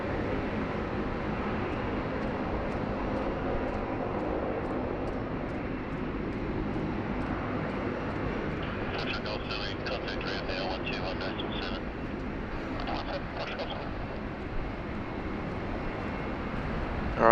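A Jetstar airliner at Sydney Airport produces a steady, broad roar of jet engines heard from a distance. The noise holds throughout under a person talking, with a faint high whine partway through.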